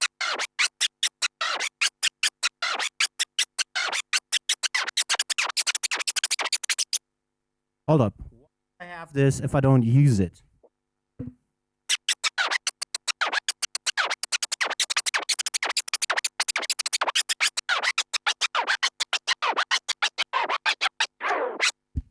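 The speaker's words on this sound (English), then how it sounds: "a short baby scratch for the chirp and a longer one for the flare" DJ turntable scratching mixes short baby-scratch chirps with longer flares, fast loud rhythmic bursts before and after a short pause where someone speaks briefly.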